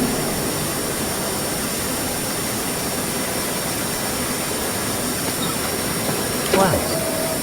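Jet airliner engines roaring at takeoff power, a steady, dense broadband rumble that holds loud throughout, with a brief louder burst near the end and cockpit voices calling out the takeoff.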